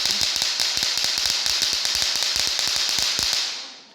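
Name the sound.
firecracker sound from remote-operated student-made device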